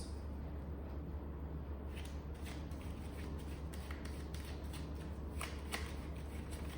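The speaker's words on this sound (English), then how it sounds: "All my cards want to fall on the floor today" Tarot cards being shuffled and handled close to the microphone, with a continuous papery riffling and soft slaps of cards against each other, over a low steady hum.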